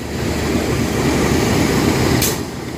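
A Dhoho passenger train stands waiting on track 2 at a station near Blitar, giving off a steady, loud low rumble and hiss of idling machinery throughout, with a brief sharp burst near the end.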